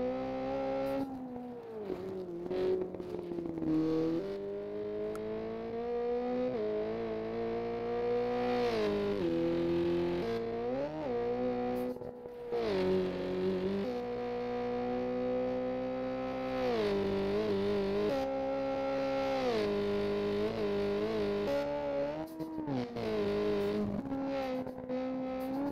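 A rally car in the game Richard Burns Rally, its engine held near full throttle, with revs rising and dropping through gear changes and tire and gravel noise underneath, continuous and loud without talk.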